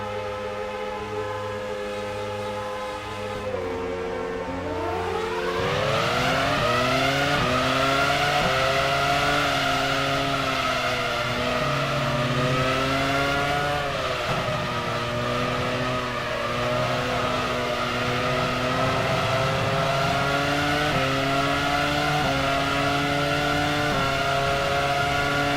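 Formula One car from the F1 Challenge '99-02 racing game launching off the line, engine revving hard and climbing through rapid upshifts, loud and continuous with no talk.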